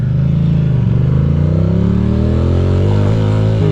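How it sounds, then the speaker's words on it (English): Motorcycle engine revved with the clutch held in, a close, loud, continuous drone that climbs steadily in pitch over a few seconds, with no voices. "I'm holding the clutch, giving it a little bit of RPM"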